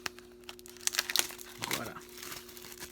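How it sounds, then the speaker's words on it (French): Plastic packaging crinkles and tears close by while a Roma Blu-ray case is unwrapped, with scattered sharp crackles and rustles and a voice speaking briefly in the middle. "je vais commencer par le déballer"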